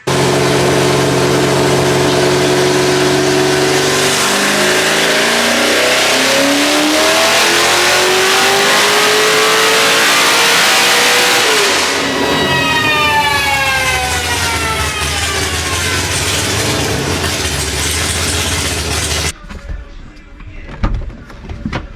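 A high-compression naturally aspirated 402-cubic-inch V8 on a dyno revs hard and climbs in pitch, winds through its gears at full throttle, then cuts off abruptly, leaving a rumbling idle.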